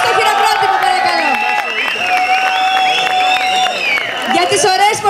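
An audience at an Egyptian belly dance performance claps and cheers loudly and continuously, with whoops and excited voices rising over the steady applause.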